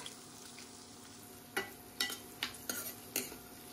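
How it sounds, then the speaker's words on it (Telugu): Onions frying in oil with tempering spices, a quiet steady sizzle broken by several distinct spoon scrapes and stirs against the pan in the second half. "ఇదిగోండి ఉల్లిపాయలు ఈ విధంగా ఫ్రై అయ్యాయి"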